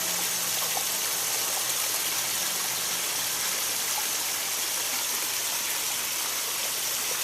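A small garden stream beside a koi pond runs steadily, a broad, even rush of flowing water that stays constant and fairly loud throughout with no voices.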